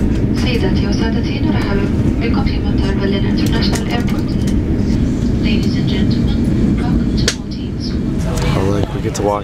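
Airliner on the tarmac after landing in the Maldives, a loud steady engine rumble and whine filling the scene close by, with people talking over it.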